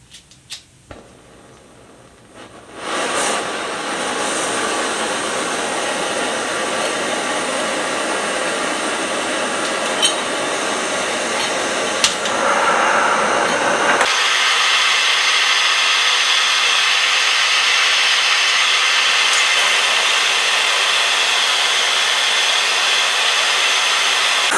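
A Fire Maple Fixed Star X2 backpacking gas stove, tested indoors, lights and burns at full flame with a loud, steady roaring hiss that jumps louder partway through and then holds constant, close up.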